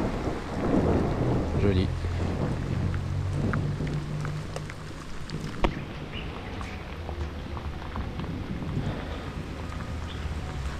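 Steady early-morning rain hisses over a low thunder rumble during a storm, with a voice speaking briefly near the start and a sharp knock midway.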